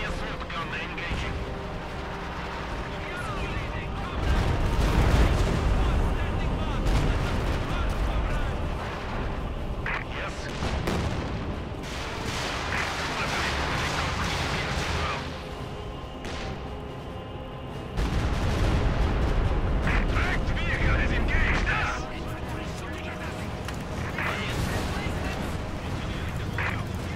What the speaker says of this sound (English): Heavy assault gun engaging.